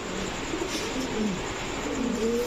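Low pigeon cooing rises and falls in a few gentle phrases over steady background noise, with no talking.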